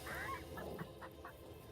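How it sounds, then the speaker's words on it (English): A video game chicken gives a series of short, faint clucking calls, repeated about four times in quick succession over a steady game background. "Sounds like a chicken."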